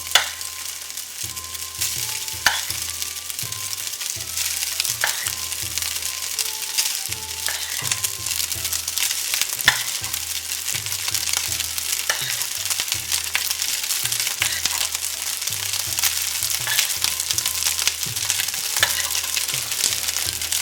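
Pre-cooked rice is stir-fried with scrambled egg in a pan for egg rolls, sizzling steadily throughout with repeated scraping and tossing sounds from stirring, close and continuous with no talking.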